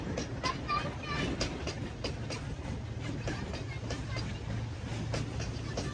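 A train rumbles past with rhythmic clattering wheels and a broad roar at the Yadakumari railway viewpoint near Sakleshpura, while people talk in the background.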